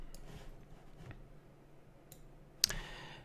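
Faint computer mouse clicks during 3D material editing work in Unreal Engine 4, a few soft isolated clicks followed by one sharper, louder click near the end over a quiet background.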